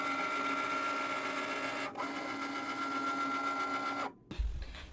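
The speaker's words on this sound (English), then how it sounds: "Now we go over to our Cricut, load it up," A Cricut cutting machine cuts printed paper with a steady whirring motor hum, its pitch shifting as the blade carriage changes direction, then stopping abruptly with a clunk near the end.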